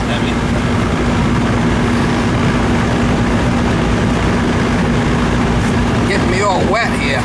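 An outdoor AC unit running on R-410A refrigerant while low on charge and icing up, a loud, steady mechanical drone with a constant hum, with people talking briefly near the end.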